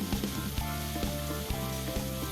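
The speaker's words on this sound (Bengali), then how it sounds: "সবজিগুলো দিয়ে ভালো করে মিশিয়ে একটু সময় নিয়ে ভেজে নিচ্ছি" Mixed vegetables for shukto sizzle steadily while frying in a pan, a close, continuous crackle with light stirring knocks at regular intervals.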